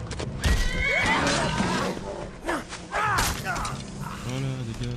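A horse in the video game Skyrim neighs and whinnies in several loud, close bursts, with hoof clip-clops and thuds mixed among the calls.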